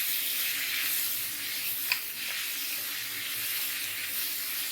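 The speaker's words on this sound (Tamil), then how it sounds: "இது நல்லா வதங்கணும்." Small onions sauté in oil in a pan for Chettinad chicken curry, a steady, even sizzling hiss that holds throughout at close range, with no one speaking.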